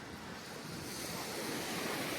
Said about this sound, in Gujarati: દરિયાના મોજા આવે છે એનો અવાજ આવે છે